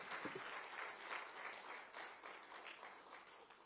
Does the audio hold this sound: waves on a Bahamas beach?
no